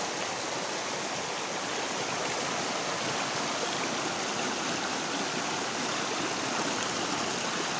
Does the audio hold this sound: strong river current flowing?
yes